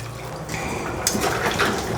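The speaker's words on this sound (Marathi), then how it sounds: "आता मी ह्याच्यामध्ये टाकते आहे त्याच्यामध्ये पाणी" Water poured into a pan of ragi and jowar millet pasta, a steady close splashing and filling sound that brightens and swells partway through, with no talk.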